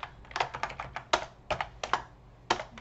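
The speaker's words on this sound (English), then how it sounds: "Let me learn how to type here." Typing on a computer keyboard, a steady run of crisp, close key clicks in uneven bursts with brief pauses, no voices.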